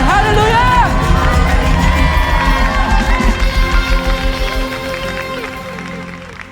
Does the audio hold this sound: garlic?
no